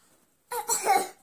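A child gives a short cough when asked to, a single close, brief burst after a moment of silence.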